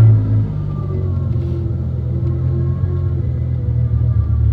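A Ford Mustang GT350 engine runs with a steady, deep low rumble at close range, holding an even idle throughout with no voices over it.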